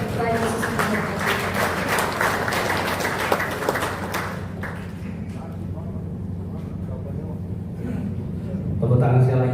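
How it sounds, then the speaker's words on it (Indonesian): At a church service, a crowd claps enthusiastically for several seconds, then the applause fades into murmuring room noise, with a voice starting to speak at the end. "Tepuk tangan sekali lagi."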